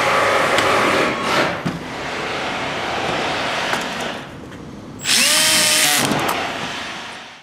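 A power drill drives quarter-inch screws into corner bracket hardware during a SmartBoxx install, whirring loudly and steadily for several seconds, with a brief higher-pitched burst of speed near the end.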